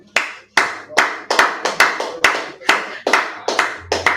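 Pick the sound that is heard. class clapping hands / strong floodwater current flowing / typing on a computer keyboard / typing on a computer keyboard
class clapping hands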